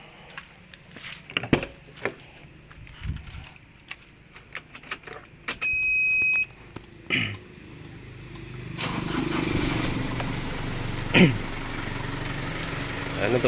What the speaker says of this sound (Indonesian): Oke, kita hidupkan mesinnya.